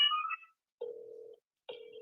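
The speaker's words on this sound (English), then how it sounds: "You guys hear the phone dialing?" Three telephone call tones sound in a row, a high two-tone beep followed by two lower steady tones separated by silence, clear and alone.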